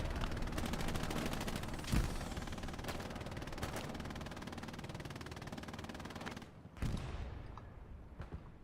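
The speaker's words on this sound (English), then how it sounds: "Whiskey drawing some machine gun fire." Machine gun fire rattles in rapid, sustained bursts in a Hell Let Loose match in the Hurtgen Forest, dense and continuous with occasional heavier shots, stopping briefly before another burst.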